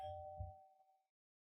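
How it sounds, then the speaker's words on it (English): A single doorbell chime rings once indoors, a faint clear tone that decays and fades to silence within about a second. "My doorbell just rang."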